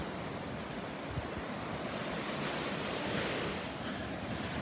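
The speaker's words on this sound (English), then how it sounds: "As you can see, the surf is up." Surf rolling onto the Gulf beach at Delnor-Wiggins Pass State Park in North Naples, Florida, on a cool morning, a steady broadband roar of breaking waves with a north wind buffeting the microphone throughout, no voices.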